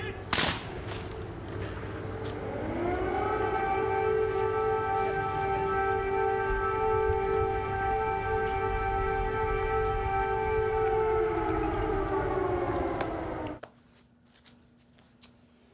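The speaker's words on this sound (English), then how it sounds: "Note the air raid sirens in the background." Air raid sirens wailing over Kyiv, a single loud siren tone rising at the start, then holding a long steady howl before cutting off abruptly, with faint background noise afterward.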